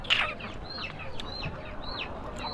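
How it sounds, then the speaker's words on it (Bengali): Chickens cluck in a series of short calls at a village market in Narayanganj, fairly close, over a low murmur of background noise. "এখানেও মুরগি।"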